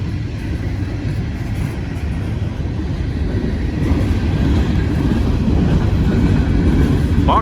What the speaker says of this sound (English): That locomotive's working hard.